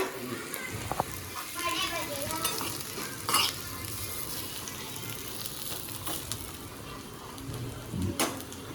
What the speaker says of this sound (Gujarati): છાશ ફાટે નહીં ત્યાં સુધી હલાવો.